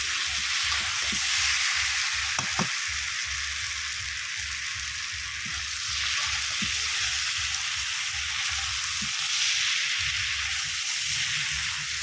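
Ridge gourd, potato and prawn curry sizzles steadily in a pan over a wood-fired stove, a continuous hiss with occasional soft scrapes of stirring and a low crackle of fire underneath.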